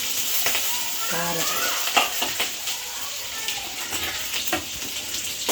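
Urad dal, garlic and green chili sauté in hot oil in a pan with a continuous crackling sizzle, with occasional stirring clicks and someone talking over the cooking.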